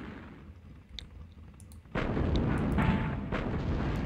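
Artillery fire in the World War II strategy game Sudden Strike: a few faint distant pops give way to a sudden sustained roar of heavy booming barrages and crackling blasts.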